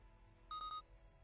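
A robot character in a metaverse roleplay game gives a short electronic beep, three quick bright tones lasting under half a second over a quiet background hum.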